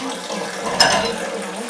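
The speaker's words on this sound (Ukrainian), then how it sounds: "Тече просто чудово." Homemade apple juice with a little redcurrant streams steadily from a fruit press, a continuous close liquid pour with a brief brighter splash midway.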